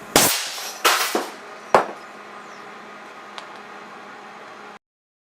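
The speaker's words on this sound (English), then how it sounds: "glass marble, 625 caliber, 72-inch barrel, 300 psi, so we'll be well subsonic here." Air cannon firing a glass marble from a 72-inch barrel at 300 psi into two stacked satellite receivers: a sharp blast, then two more loud cracking impacts, then a final bang, all close and followed by quiet.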